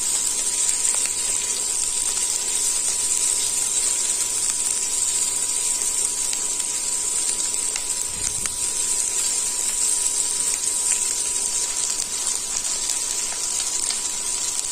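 Soya chunks and capsicum fry in a pan with a continuous bright sizzle and hiss, steady and close throughout, with a brief low knock near the middle.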